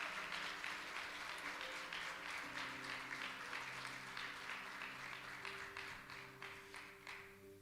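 A church congregation claps in a broad, sustained round of applause, steady at first and gradually thinning toward the end, with a low sustained musical tone beneath.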